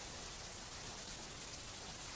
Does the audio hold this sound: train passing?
no